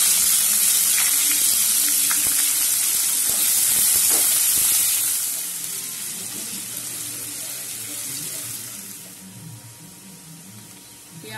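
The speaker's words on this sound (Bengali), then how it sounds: "পেঁয়াজটা ভাজা হয়ে গেছে" Chopped onions fry with cumin seeds in hot oil, giving a loud, steady sizzling hiss that eases off partway through and continues more quietly.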